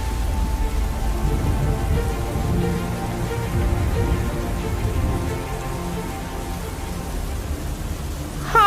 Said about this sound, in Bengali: অনেকদিন পর আমরা সবাই একটু বৃষ্টি পেয়েছি